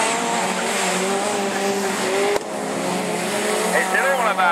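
A Division 4 rallycross car at the Lessay circuit roars loud and close, its engine note holding steady before a brief drop at a gear change and then climbing again, with faint voices and a rising whine near the end.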